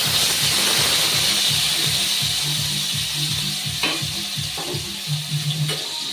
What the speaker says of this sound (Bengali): পনিরটাকে তেলের মধ্যে একটু ভেজে নেব।